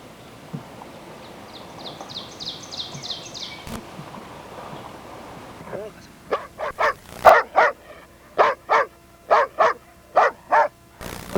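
A large guard dog breed of Molosser descent, about 29 to 32 inches tall and up to 150 pounds, barks loudly. A faint rapid yip is heard first, then a series of deep, evenly spaced barks close to the listener.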